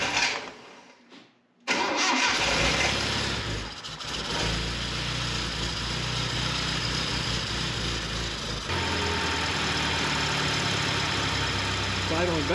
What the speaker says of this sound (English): first startup and see if we can make this run.